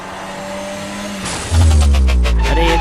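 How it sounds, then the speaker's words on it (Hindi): A car in a video game engine-hums, then a sudden louder burst of revving and tyre noise as it strikes an old man, loud and close with no talk. "शॉन ने कार से ठोक दिया"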